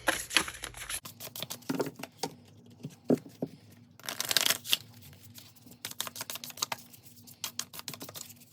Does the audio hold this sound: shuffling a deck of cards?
yes